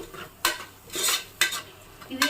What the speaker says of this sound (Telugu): మధ్య మధ్యలో తిప్పుకుంటూ ఉండాలి అడిగట్టుపోకుండా మాడిపోకుండా